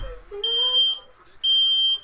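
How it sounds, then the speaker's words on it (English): A smoke alarm sounds close by in two loud, shrill electronic beeps about a second apart, with a person's voice heard briefly underneath before the first beep. "We're trying to turn off the fire alarm."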